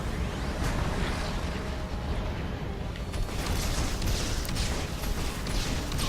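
Loud, dense blasts and rumbling booms from rocket explosions in the Mass Effect 2 video game, one burst after another with no pause and no talk.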